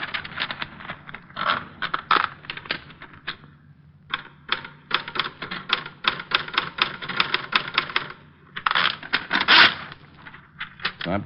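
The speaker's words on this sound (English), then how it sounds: "There's a typewriter." Rapid, uneven clacking of typewriter keys fills a quiet room in bursts, with short pauses and a sharper carriage-like clatter near the end, close and clear with no talking.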